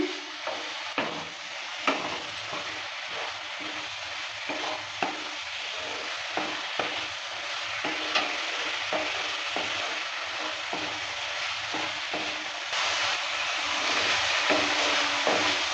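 Spice paste for a tangra fish curry with beans and potatoes being stirred and fried down in a pan, a steady close sizzle with frequent scraping stirs, growing slightly louder toward the end, no voices.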